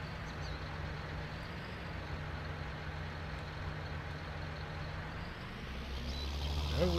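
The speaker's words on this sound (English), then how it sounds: "Let's get a little chiseling done here." A tractor pulling a chisel plow in Farming Simulator 19 gives a steady low engine drone and rumble that runs on without a break, rising slightly toward the end.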